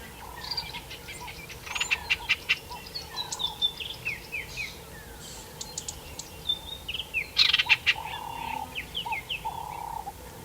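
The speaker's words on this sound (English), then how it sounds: "the little birds were out in abundance" Small birds call near the Platte River at Zaagkuilsdrift, a busy mix of sharp chirps, quick descending whistles and trills from several birds, close and clear over a quiet background.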